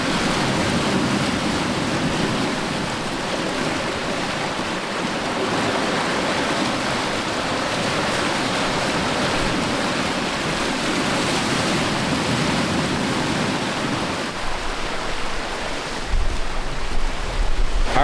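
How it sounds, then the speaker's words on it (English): Strong wind roars over a sailboat flying a spinnaker at around eight knots, with rushing waves and surf hissing steadily throughout, loud and close with heavy wind buffeting on the microphone and no talking. "wind picked way up"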